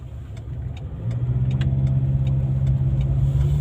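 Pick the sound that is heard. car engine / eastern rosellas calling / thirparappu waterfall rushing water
car engine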